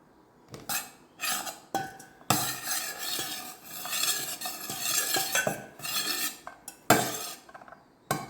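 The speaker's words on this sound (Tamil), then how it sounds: "இப்போ நம்ம க்ளீன் பண்ணி வச்சுருக்க இந்த சிக்கனை சேர்த்து நல்லா வதக்கி விட்டுருவோம்." Chicken being sautéed in a pan, with a utensil scraping and clinking against the metal in irregular bursts over a soft sizzle, close and moderately loud, with no voices.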